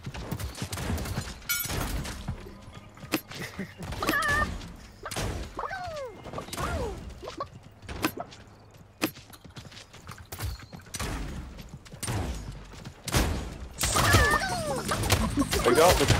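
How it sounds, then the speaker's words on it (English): Rapid sharp gunshot bursts from a battle royale video game crackle over and over, mixed with busy game effects and players talking throughout. "Bro, someone's shooting me."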